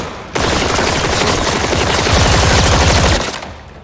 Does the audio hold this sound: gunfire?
yes